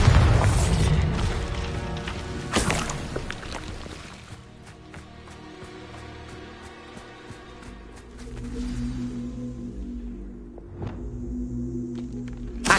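Bombarda blasting spell in Hogwarts Legacy: a loud booming explosion at the start, followed by crumbling debris and lingering rumble, then a second softer burst and tonal magical shimmer trailing off.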